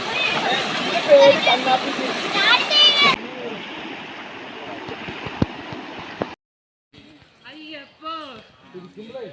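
Pilgrims on the forest trail to Sabarimala wade across a stream, with rushing, splashing water loud in the first seconds, a softer flow after, then a brief silence and people talking.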